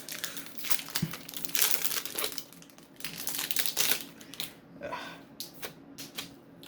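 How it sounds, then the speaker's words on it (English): Plastic bag crinkling loudly and irregularly in close bursts as someone struggles to open it, with crackling rustles over several seconds and no talking. "struggling to open a plastic bag"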